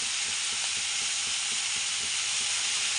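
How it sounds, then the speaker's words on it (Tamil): Hot ghee in a pan gives off a dense, constant sizzling hiss that stays loud and steady throughout, with no talking. "இது நெய் போட்டுக்கிறேன், நல்லா நெய் ஊற்றிக்கிறேன்"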